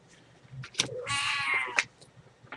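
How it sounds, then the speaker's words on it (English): Domestic cat meowing close by, a short chirp followed by one drawn-out, strained meow, then quiet rustling. "my cat will not leave me alone"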